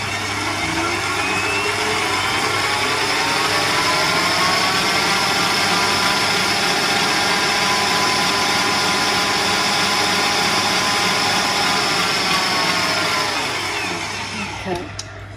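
Electric stand mixer whisking at a cookery school, a loud continuous whirring motor with a steady whine that holds for most of the time, then winds down near the end.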